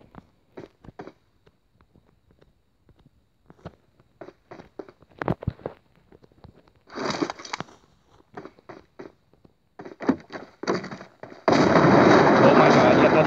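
Red zone bombardment in PUBG, scattered sharp blasts and cracks landing at varying distances with irregular timing, ending in a loud sustained roar, while people talk between the hits.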